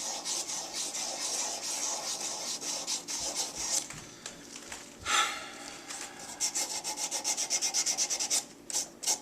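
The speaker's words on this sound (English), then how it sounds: "Now I'm just giving it a uniform finish. First stage here with this emery cloth." Emery cloth rubs over a steel ball crank handle in steady, close rasping strokes that grow quicker and more rhythmic toward the end, with no talking.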